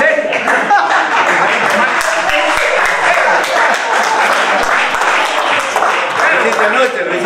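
Audience applause during a golf exhibition at a green, dense, steady clapping filling the whole stretch with talk mixed in underneath.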